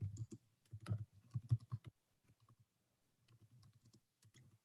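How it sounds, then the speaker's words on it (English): Someone types on a computer keyboard during an online group meeting, giving soft, irregular bursts of key taps that pause midway and then resume, fairly close and quiet. "I'm typing it in Una."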